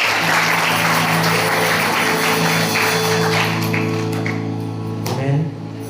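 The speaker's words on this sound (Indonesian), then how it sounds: "Yang mengerti tepuk tangan buat Tuhan" Church congregation clapping for God during a service, a dense round of applause under a steady organ or keyboard drone, tapering off near the end.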